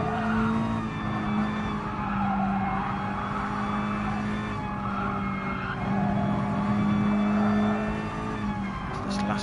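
A Mazda touring car in a sim racing game corners at Suzuka's short course, its engine holding a steady, close drone while the tyres scrub and squeal continuously through the bend.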